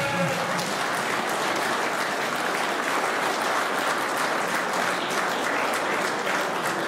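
Steady, dense applause from a large audience at a nationalist political gathering, filling the whole stretch at close range with no pauses.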